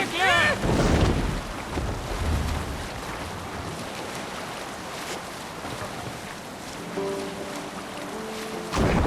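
A Viking longship out at sea in Assassin's Creed Valhalla: continuous wind rush and ocean wash with creaking hull and sail sounds, loud and steady, and a brief voice near the start.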